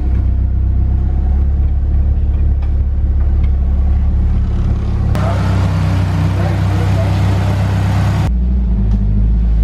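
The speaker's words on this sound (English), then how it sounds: "just warming the car up" A drift car's engine warms up with a steady low idle rumble, then revs harder for a few seconds before settling back, heard up close and loud throughout with voices talking over it.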